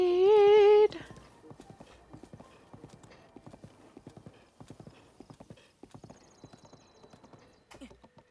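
A horse whinnies loudly, then steady clip-clopping hooves follow in a quick, even rhythm in the video game Zelda: Breath of the Wild, fairly close and clear.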